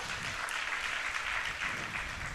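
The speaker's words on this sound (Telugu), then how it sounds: "చప్పట్లు కొట్టి దేవుని స్తుతిద్దాం." A church congregation claps in praise, a steady dense wash of hand claps from many people at a moderate distance, with no talk.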